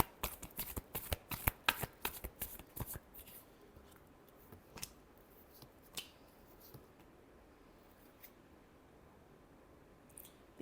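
A deck of tarot cards is shuffled close up. A quick run of crisp riffling flutters and snaps starts things off, then fades into sparse, faint card taps and quiet handling.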